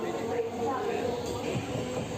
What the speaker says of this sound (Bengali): একটা প্যারালালি কিন্তু আরেকটা লোকাল ট্রেন আমাদের সঙ্গে চড়ছে